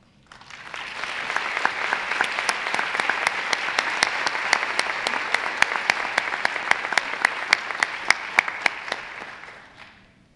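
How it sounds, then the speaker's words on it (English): Audience applause at a school district State of the District address, a dense wash of many hands clapping with sharp individual claps, swelling quickly and holding steady for about ten seconds before fading out at the end. "I hope you'll join me in applauding Max's work and the start of a legacy"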